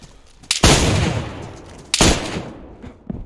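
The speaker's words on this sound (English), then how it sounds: "Shotgun!" Two loud shotgun blasts in the video game DayZ, roughly a second and a half apart, each a sharp crack with a rumbling decay, followed by faint scuffling.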